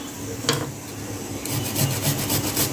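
Freshly peeled ginger rubbed against a grater in short, close rasping strokes, one brief scrape followed by a quicker run of rhythmic grating.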